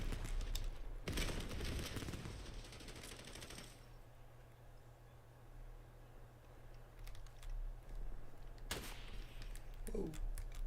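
Call of Duty Warzone gunfire comes as a loud burst of rapid automatic shots, then fades to quiet ambience, and a short sharp volley returns near the end.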